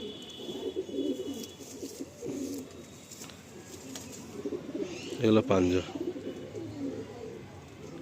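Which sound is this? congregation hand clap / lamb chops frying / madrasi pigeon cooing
madrasi pigeon cooing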